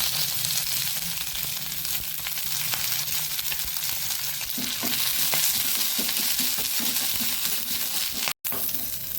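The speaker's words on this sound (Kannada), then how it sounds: "ಇದರಲ್ಲಿ ನೋಡಿ ಸ್ವಲ್ಪ ತುಪ್ಪ ಹಾಕ್ಕೊಂಡು ಈ ಒಂದು ಕಟ್ ಮಾಡಿಕೊಂಡಂತಹ ಇದನ್ನು ಅದರಲ್ಲಿ ಹುರಿದುಕೊಳ್ಳೋಣ." Cut paan (betel) leaves fry in ghee in a pot, giving a steady broadband sizzle with light stirring scrapes and clinks throughout, fairly close and continuous with no talk.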